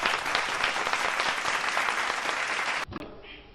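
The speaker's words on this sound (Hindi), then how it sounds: "एक और तालियां से स्वागत की जाए।" Audience applause welcoming a guest at a village gathering in Rewa, a dense burst of clapping that runs steadily for about three seconds before cutting off abruptly.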